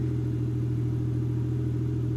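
A Toyota Aristo engine idles loudly with its charge pipes removed, a steady deep rumble with a strong low hum that holds unchanged throughout, close and continuous with no voices.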